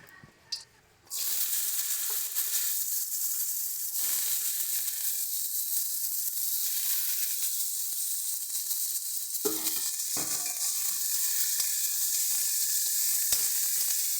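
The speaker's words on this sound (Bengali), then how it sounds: "এবার এই তেলেই আমরা যে ডুমু ডুমু করে ছোটো ছোটো কুচি করে আলুটা রেখেছিলাম ওটাকে ভেজে নেব" Small diced potatoes fry in hot oil with a loud, dense, continuous sizzle that starts abruptly about a second in, close up, with a few faint stirring knocks and no voices.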